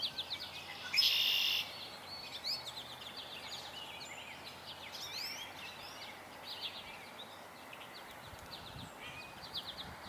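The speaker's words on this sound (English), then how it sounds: "I just heard a common grackle." A common grackle gives one brief, squeaky high call early on over steady outdoor ambience, with faint scattered bird chirps heard during a birding tour.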